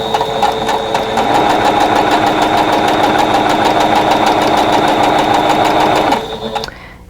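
A sewing machine stitches a long straight seam through patchwork quilt fabric, a close, steady mechanical whir running unbroken for about six seconds before winding down.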